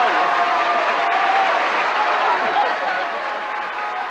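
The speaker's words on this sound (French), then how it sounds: "Premier triomphe, premiers applaudissements qui font oublier pendant quelques instants la dure réalité du métier de comédien." Steady applause greets a comedy prize in a played excerpt, a dense sustained crowd clapping that eases slightly toward the end, with voices faintly mixed in.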